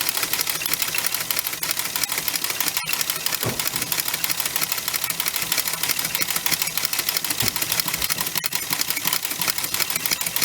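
A Singer straight stitch sewing machine fitted with a 1948 Singer buttonholer runs steadily, giving a fast, even mechanical clatter of needle strokes that goes on throughout at close range, with no talking.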